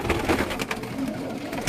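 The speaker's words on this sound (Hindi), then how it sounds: "ये मैं जो कबूतर आपको दिखा रहा हूँ कमरानी लाफ्ट का" A racing pigeon from Qambrani Loft in Quetta gives soft, low cooing, faint and brief against quiet room noise.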